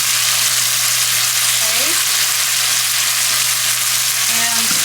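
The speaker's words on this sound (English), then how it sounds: "Squeeze it right in there." Asparagus and arugula sizzle loudly in a hot pan as lemon juice is squeezed in, a steady bright frying hiss with a low hum underneath and a few faint clinks.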